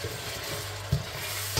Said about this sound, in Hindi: अब इनको अच्छी तरह हमने भूनना।